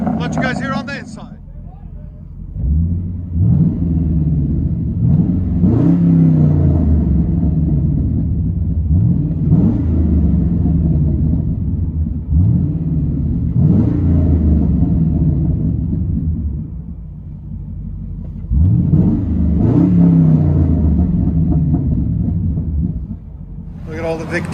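A 2008 Hummer H3 Alpha V8 with true dual straight-pipe exhaust and no mufflers, heard from inside the cabin: a deep, loud, continuous rumble that swells in several repeated rev surges before settling back to idle.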